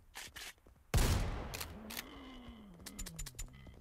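In the horror game Project Crypt, a single loud shotgun blast booms close up, followed by a decaying rumble, clicks and scattered mechanical clatter.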